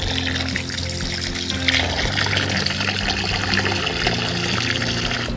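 Water draining steadily out of the bottom of a potted fruit plant after watering, a continuous trickling and splashing that stays level throughout with no talking.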